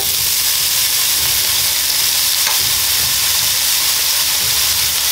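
Food sizzles loudly in hot extra virgin olive oil in a pot for an Ital stew, a dense, continuous frying hiss that holds steady from start to finish with no talking.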